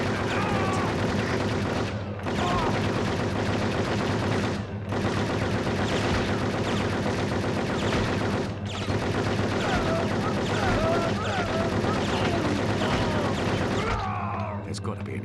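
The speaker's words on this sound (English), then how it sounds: "Heavy enemy fire, no problem." Heavy enemy gunfire in the PS2 game Cold Winter, a loud, nearly continuous barrage of rapid shots with a few brief pauses and someone talking over it.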